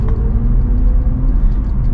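A BMW iX3 electric SUV in sport mode accelerates with a synthetic drive sound modelled on Hans Zimmer, a loud, steady low droning hum with no breaks.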